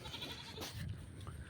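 Goats give a brief, faint bleat at a distance over a low background murmur.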